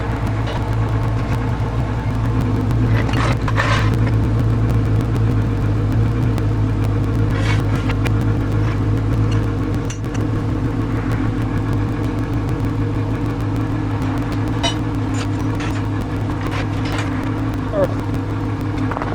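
A Dodge Charger with a 5.7-liter HEMI V8 and mid muffler delete idles on a cold day, a steady deep rumbling burble throughout, with a voice talking over it at times.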